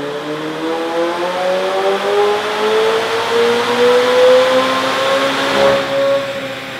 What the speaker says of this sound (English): their stock McLaren 720S on the same dyno